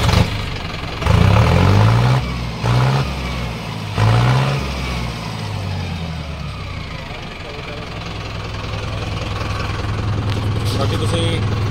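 A Mahindra Arjun Novo tractor engine cranks in several close, loud bursts, then settles into a steady low idle, with someone talking over it.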